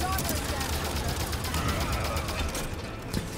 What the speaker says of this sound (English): What is shooting me from this way?